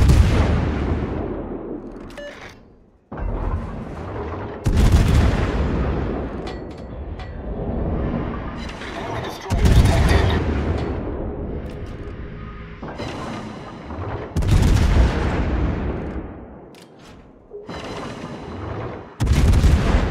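Heavy naval guns of a Tier 10 USS Salem cruiser fire in a World of Warships battle, a series of loud, deep booming salvos every few seconds, each rolling away in a long echoing decay.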